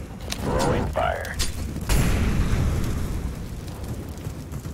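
An incendiary grenade is thrown in CS:GO on the Inferno map: a sudden broadband burst about midway, trailing into a sustained rough crackle, with voices talking over the game.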